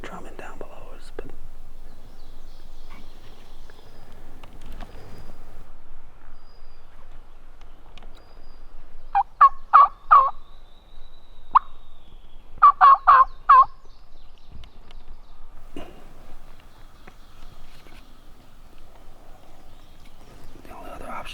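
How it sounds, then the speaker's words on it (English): A wild turkey on public land gobbles in two short bursts from some distance, each a rapid rattling run of notes over quiet outdoor ambience, with soft whispering between the calls. "there's one drumming down below us"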